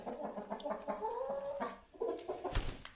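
Several chickens cluck and murmur nearby inside a stable in short, irregular calls, with a few sharper notes and some scuffling noise.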